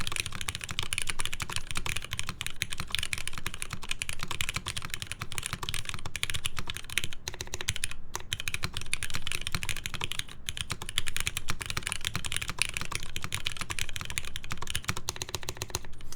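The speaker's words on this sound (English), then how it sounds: "I don't know why I'm typing so poorly" Steady, dense typing on a polycarbonate TGR Alice mechanical keyboard, continuous clicking keystrokes at a close, even level with no talking throughout.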